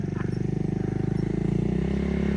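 A motorcycle scrambles around a grassy field, its engine putting out a steady pulsing drone at moderate distance, rising gradually in pitch as it revs.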